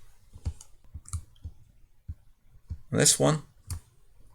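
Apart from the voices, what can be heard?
computer mouse clicks selecting parts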